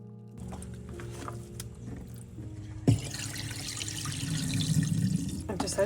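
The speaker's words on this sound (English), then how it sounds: "I'm just filling up my sink and using some dish soap." Tap water pours into a kitchen sink with dish soap, a low steady gush that starts with a sudden splash partway through and keeps running, preceded by quiet clinks and handling noises.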